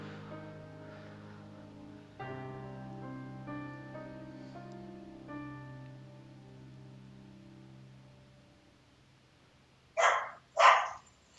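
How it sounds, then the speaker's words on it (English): A corgi lets out two short, sharp barks that come through clearly near the end, after a long stretch of steady tonal game music. "There's my corgi barking."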